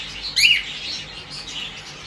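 Pied budgerigars and cockatiels in an aviary give a quick burst of bright chirps over a soft, steady background of twittering.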